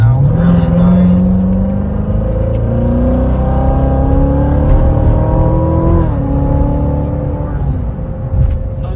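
A Corvette Z06 pulls hard up a highway on-ramp, its engine note climbing steadily through the revs, dropping sharply at an upshift and then building again, loud and continuous throughout.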